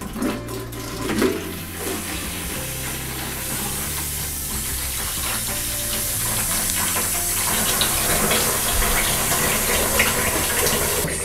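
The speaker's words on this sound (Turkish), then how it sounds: "Şu an buradaki siyah su dökülüyor." Black water pours out of a combi boiler radiator system during cleaning, making a continuous splashing, trickling flow that is close and steady, growing slightly louder toward the end.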